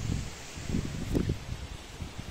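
Strong gusting wind on a beach in Spain buffets the microphone, giving a continuous low roaring rumble with fluttering surges and no voices.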